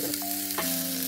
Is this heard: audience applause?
no